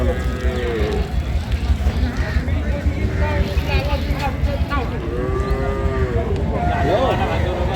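Dairy cows and calves at a rural cattle market in Dinajpur, several drawn-out moos rising and falling over a busy crowd murmur, with people talking throughout.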